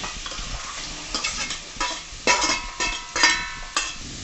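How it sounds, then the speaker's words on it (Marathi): Chopped garlic and onion frying over a high flame in about four ladles of oil for mutton kheema, with a steady sizzle beneath roughly seven sharp spatula-stirring scrapes at an irregular pace, close and fairly loud, no talking. "फास्ट गॅसवर कांदा शिजवून घेऊयात"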